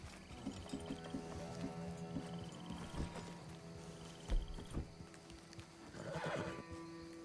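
A horse in Red Dead Online whinnies and snorts close by while its hooves clop in a loose rhythm, with faint insect chirps in the background.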